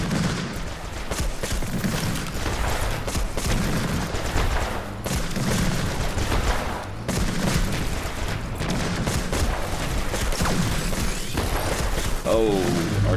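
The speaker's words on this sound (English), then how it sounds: "Oh, artillery got me." Artillery and weapon fire in the Spider Tanks battle game, dense repeated bursts of gunfire, booms and mechanical clatter throughout, loud and rapid with brief gaps.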